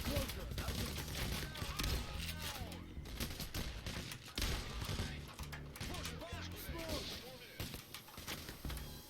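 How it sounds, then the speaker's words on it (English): A very powerful shotgun firing in a video game, heavy booming blasts repeating amid chaotic combat noise and crashes, loud and continuous across the clip. "One of them is this stupidly powerful shotgun."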